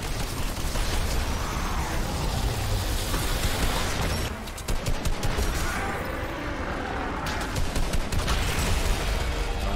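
A turret firing in Fortnite Battle Royale, a loud continuous rattle of rapid shots that fills the whole stretch, with brief dips and bursts of sharper crackle partway through and no voices.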